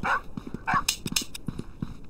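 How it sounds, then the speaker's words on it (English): Dogs bark in the post-apocalyptic video game Survival Postapocalypse Now, several sharp barks coming in a loose irregular run, moderately loud, with game noise around them. "There's doggies!"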